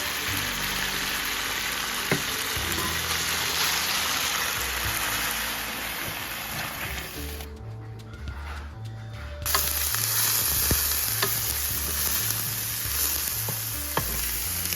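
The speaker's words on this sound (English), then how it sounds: "I'm going to saute that for 2 minutes, the red onion." Chopped red onion sautéing in a pan, a steady close sizzle and crackle with occasional stirring clicks, a low hum running underneath.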